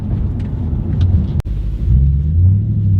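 Audi B7 RS4 engine rumbling low and close, with a brief sharp clunk of a gear shift midway, then the revs climbing again in a rising drone.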